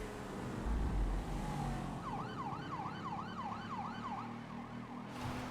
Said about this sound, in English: It doesn't really matter if we have our sirens turned on.